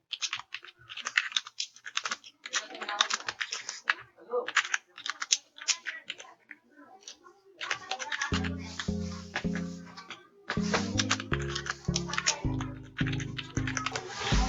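Fingers type on a computer keyboard in the Leafpad text editor, first in scattered light key clicks, then in denser, louder bursts of keystrokes, with a voice talking alongside.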